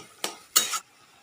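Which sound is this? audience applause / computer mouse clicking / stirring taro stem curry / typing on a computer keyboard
stirring taro stem curry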